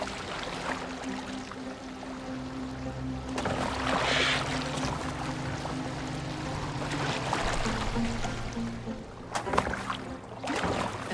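Boat gliding across open water in Assassin's Creed Valhalla, with a steady low hum and continuous lapping, splashing water throughout and a few brief louder swashes.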